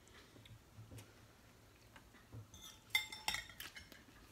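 A fork clinks and scrapes against a bowl while twirling spaghetti with lemons, anchovies and capers: quiet at first, then a cluster of sharp metallic clinks and scrapes near the end.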